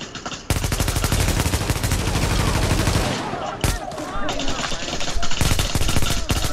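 Rapid automatic gunfire in The Division video game, loud sustained bursts of shots in a dense rhythm with a short pause and a single sharp shot, followed by scattered firing and game effects.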